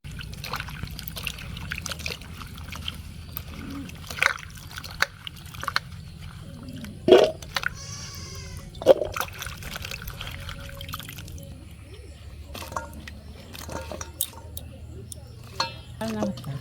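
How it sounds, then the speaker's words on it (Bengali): Water trickles and pours over freshly cut leafy greens being washed, with intermittent splashes and dribbles, close but fairly quiet, while people talk in the background. "তো আমাদের সব শাক বাছা হয়ে গেছে, কাটুন ধরে থেকে। তো এগুলো এখন ধুয়ে আসি।"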